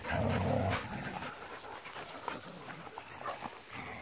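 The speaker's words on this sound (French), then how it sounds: "Un chien qui a été socialisé." A socialised dog on a Sunday outdoor walk gives a short whining vocalisation, then pants softly against open-air background noise.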